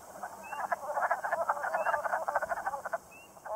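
Wood frogs give mating calls in a Maine pond in early spring, a dense chorus of rapid, clucking croaks pulsing continuously and fairly close, with faint high chirps from another animal now and then and no voices.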